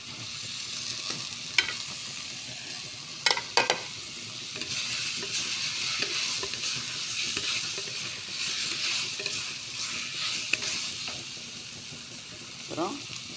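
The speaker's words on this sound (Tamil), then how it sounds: "வெங்காயம்லாம் இதுக்கு இந்த மாதிரி கொஞ்சமாக வதங்கினக்கையோட தக்காளி பழத்தை ஆட் பண்ணிடுங்க." Onions and tomatoes sizzle and fry in a pan while being stirred for drumstick rasam, a steady crackling hiss with occasional sharp scrapes and clinks of a spoon against the pan, close and moderately loud.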